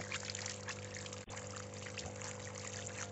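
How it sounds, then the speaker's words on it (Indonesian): Water pours steadily over plant growing media being rinsed clean for water spinach, a continuous close splashing stream with a brief break midway. "Setelah media tanam dibilas atau dibersihkan dengan air"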